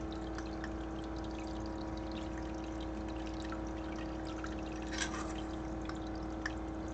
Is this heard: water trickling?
yes